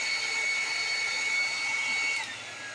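A heat gun warming epoxy on a tumbler gives off a steady, loud whirring blow with a high whine that dips slightly in pitch near the end, no talking.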